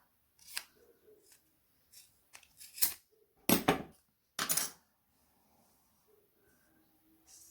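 Scissors cutting yarn during a crochet project: a handful of sharp, quiet snips scattered irregularly, with near silence between cuts and no voices.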